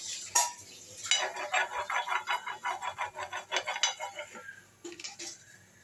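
A spoon stirs dosa batter mixed with homemade idli podi made from urad dal, scraping in a quick rhythmic series of clinks and scrapes against the bowl, close and fairly clear, with a couple of sharper knocks at the start and end.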